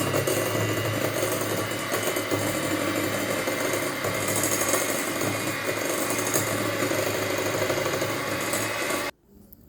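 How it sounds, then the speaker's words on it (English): An electric mixer creams cupcake batter with a loud, steady mechanical whir and rattle that runs close and unbroken for several seconds, then cuts off abruptly near the end, with no talking. "I'll go ahead and cream it for at least a minute."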